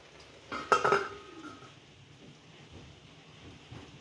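Metal lid set onto a cooking pot of spinach and country chicken, a single bright clang with brief ringing, then quiet kitchen background.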